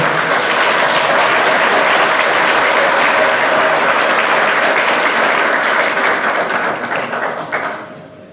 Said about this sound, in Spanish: Si me permiten otro aplauso para Vera,